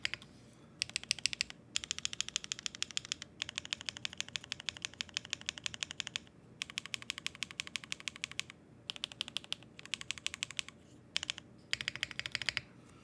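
Rapid typing on a mechanical keyboard fitted with BSUN BCP and Kailh spring switches, bursts of crisp clacking keystrokes separated by short pauses, close and alone.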